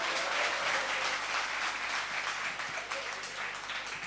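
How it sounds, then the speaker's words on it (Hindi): An audience at a Hindi poetry recital applauds after a poem ends, a thick continuous wash of clapping from a large crowd, fairly loud and even throughout. "ताली बजा दीजिए"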